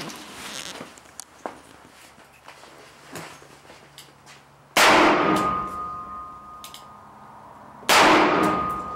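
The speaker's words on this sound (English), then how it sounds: "we are shooting 158 heavy 38 special plus P from Buffalo Boar, 1250 feet per second." Two loud, sharp reports from .38 Special +P Buffalo Bore 158-grain rounds fired into ballistic gel at an outdoor range, each followed by a ringing metallic tail, coming a few seconds apart after quieter shuffling and handling noises.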